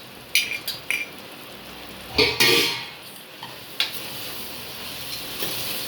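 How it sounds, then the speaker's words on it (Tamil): Chopped mushrooms are stirred and sautéed in a metal pan for mushroom biryani. A spoon scrapes and knocks against the pan in short clusters, with a faint sizzle underneath, close and fairly quiet. "இப்போ கட் பண்ணி வச்ச காளானை போட்டு வதக்கலாம்."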